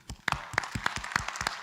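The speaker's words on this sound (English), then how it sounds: "a big applause to all of you" Scattered clapping from an audience at a climate-smart innovation finals event, thanking the organizers; individual claps stand out in an uneven, sparse rhythm rather than a dense ovation, over a faint murmur.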